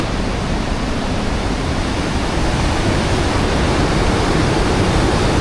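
Water pouring steadily from a spout at a mountain campsite in Irati, Navarra, a constant close rushing splash with no pauses and no talking.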